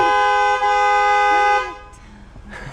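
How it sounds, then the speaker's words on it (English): A car horn blares in one long, loud continuous honk from inside the vehicle, then cuts off, leaving faint cabin noise and a brief soft sound behind it. "I was honking the horn"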